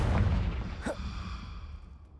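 A Confringo blasting spell explodes in Hogwarts Legacy, a loud low boom opening with a sharp burst that decays into a rumbling tail, with a brief whooshing streak midway.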